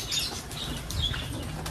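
Two escaped pet lovebirds flap their wings near a breeding setup, a steady, close, rustling flutter that runs without a break for the whole moment, with no talking.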